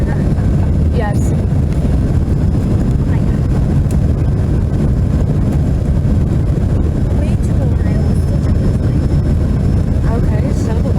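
Steady broadband roar of an American Eagle (Envoy Air) Embraer E145 regional jet cabin in flight between Cleveland and Chicago in rough weather, continuous and loud low rumble with a voice speaking over it.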